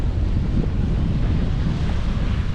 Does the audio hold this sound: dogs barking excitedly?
no